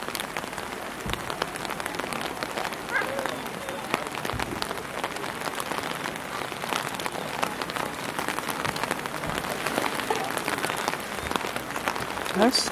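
Steady rain patters densely on surfaces, a continuous hiss of drops with scattered louder splashes throughout.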